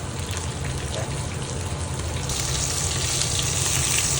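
King fish pieces fry in a pan of hot oil while they turn brown, giving a continuous close sizzle and hiss that swells slightly toward the end.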